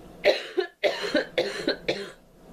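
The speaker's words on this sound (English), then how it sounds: "So I'm about to cough again." A person coughs in a quick run of four or five close, loud bursts, each sharp and breathy, with brief pauses between them and no talking.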